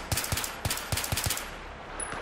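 Rapid bursts of M16 rifle fire in the video game Battlefield 3, about six sharp shots in quick succession before the firing stops. The shots are loud and close, with no talk over them.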